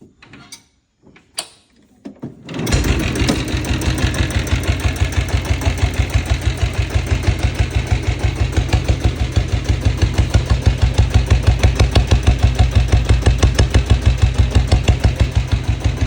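A diesel-converted Royal Enfield Bullet, freshly rebuilt after engine work, clatters to life after a few brief knocks, then settles into a steady, loud, rapid thumping idle that runs on evenly and close up.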